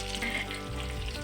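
Sliced onions sizzle in hot oil and ghee in a pot with chicken, a steady close frying hiss with a brief stir partway through.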